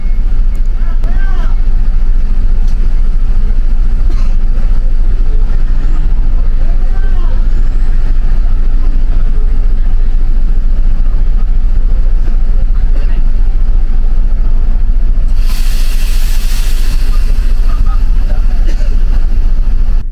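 Diesel Damri intercity bus rumbling and idling loudly at night as it departs Botani Square in Bogor, heavy low engine drone throughout with a brief hiss burst near the end, voices faintly underneath.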